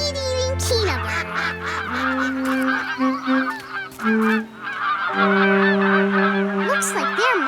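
Flock of migrating geese honking in a children's cartoon: loud, overlapping nasal honks repeat continuously for several seconds, close and busy.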